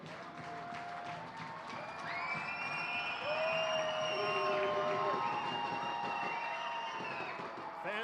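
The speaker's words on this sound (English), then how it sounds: "Fans on their feet. You can hear them in the crowd, Mike, here at FirstEnergy Stadium" Baseball fans at FirstEnergy Stadium cheer, whoop and clap from their feet during a Reading Fightin Phils game against the Hartford Yard Goats, a loud, sustained crowd roar that builds and holds throughout, with shouts rising above it.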